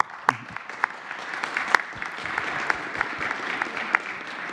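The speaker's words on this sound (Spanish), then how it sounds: "Un aplauso." Applause from the audience at a Mexican presidential press conference, a steady wash of clapping with a few sharper claps standing out, moderately distant and carrying on for several seconds without talk.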